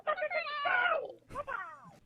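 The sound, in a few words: cat meowing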